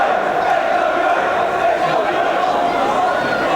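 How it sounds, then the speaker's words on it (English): A wrestling crowd at a British FWA hardcore match chants together, a dense roaring mass of voices sustained at high level throughout. "As you hear the crowd chanting along now with each wrestler"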